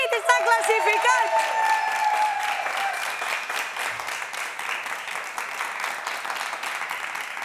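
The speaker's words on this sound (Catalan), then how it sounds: "Ha sorgit espontàniament del nostre públic" A studio audience breaks into spontaneous applause after news of Manchester City knocking out Real Madrid, a dense, sustained clapping that holds steady throughout while a voice speaks over the start.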